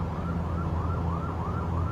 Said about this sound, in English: Sirens, huh? How about if they're going on all night and all day?